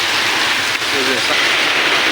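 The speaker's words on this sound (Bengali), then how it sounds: "বৃষ্টি পড়ি যাচ্ছে" Steady rain pours down outdoors onto a plastic sheet and a parked motorbike, a dense even hiss that holds throughout at close range.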